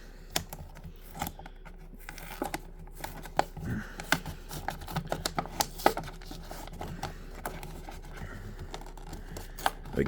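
Crinkling, tearing and clicking as a Star Wars Black Series Archive Luke Skywalker X-Wing figure is freed from its cardboard blister-card packaging; close, irregular scratchy snaps and rustles with no talking.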